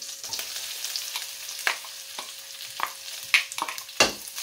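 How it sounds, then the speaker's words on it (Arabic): Onions sizzling in butter and oil in a pan for a broccoli quiche, a steady close crackling fry with intermittent stirring scrapes and clicks. "نعملوا الزبده تاع الزيت، نديروا البصل"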